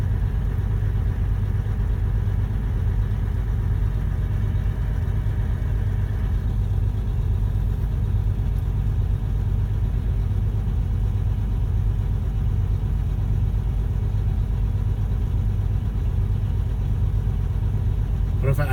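A truck engine idles with a steady low rumble and a constant broadband hiss as its air compressor keeps charging, unchanging and close throughout.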